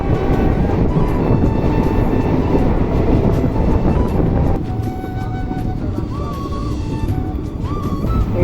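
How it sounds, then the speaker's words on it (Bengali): Tebhaga Express passenger train running on tracks near Baranagar, heard from inside: a loud, continuous rumble and clatter of wheels that eases slightly midway, with faint high squeals and tones above it. "আজকে ট্রেনে করে এখান দিয়ে যাচ্ছি"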